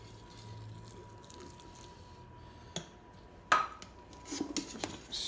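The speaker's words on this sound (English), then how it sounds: "I'm gonna stir it around" Liquid is stirred in a pot while herb butter turkey is prepared, with quiet sloshing and a few sharp clinks of a utensil against the pot, growing busier toward the end.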